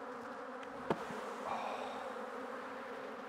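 Honey bees buzz steadily from an open hive during an inspection, a continuous close insect drone with one brief sharp knock partway through.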